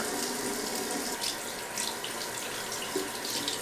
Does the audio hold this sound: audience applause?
no